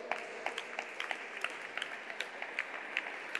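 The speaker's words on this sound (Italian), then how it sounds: "posso accoglierla con un grande applauso?" Audience applause at the gala concert for the final of a 2021 international sacred music competition: scattered, fairly faint clapping from a hall crowd, steady throughout with individual claps popping out.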